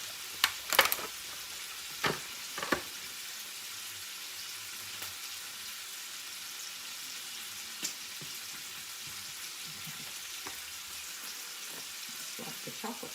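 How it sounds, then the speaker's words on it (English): Bacon sizzles in a pan, a steady hiss running throughout with a few sharp pops and clatters near the start and scattered through, moderate and close, with no talking. "You hear the bacon sizzling in the background."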